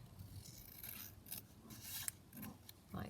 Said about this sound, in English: So I'm just going to trim it down at the side.